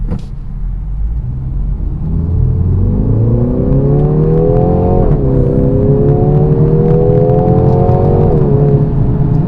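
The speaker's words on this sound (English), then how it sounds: "That is a good sounding 4-cylinder engine by BMW." A BMW X2 M35i with a turbocharged 4-cylinder engine accelerates hard from inside the cabin, its note climbing steadily through a gear change and continuing to rise, loud and continuous with no talking.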